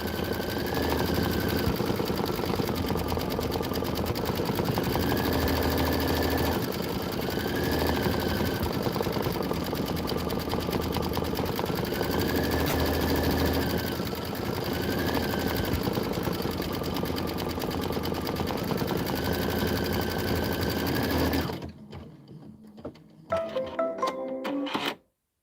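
A computerized embroidery machine stitches out a Kimberbell Enchanted Winter design, a steady loud mechanical whir with a rhythmic needle pulse running alone for about 21 seconds before stopping abruptly, followed by a few faint clicks.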